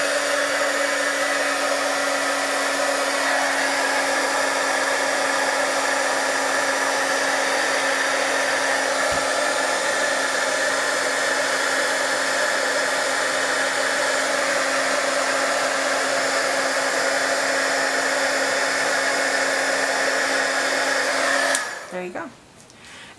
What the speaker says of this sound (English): I'm going to go ahead and emboss. It's going to be noisy, but it'll just be for a second.